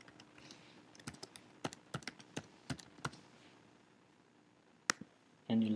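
Login details are typed on a computer keyboard as a burst of close, uneven key clicks that thin out and stop, followed by a couple of sharper taps and a short burst of louder noise at the end.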